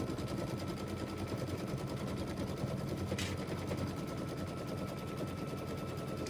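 Sewing machine stitching quilting fabric, a steady fast mechanical rattle running continuously and fairly close throughout, with one brief higher click partway through.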